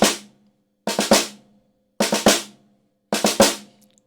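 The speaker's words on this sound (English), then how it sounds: "that's the sound of the rough that's played in most traditional rudimental drumming" Three snare drum roughs played in traditional rudimental style, each with two 32nd-note grace notes leading into a main stroke, heard as crisp, close three-hit flams spaced about a second apart, with no other sound.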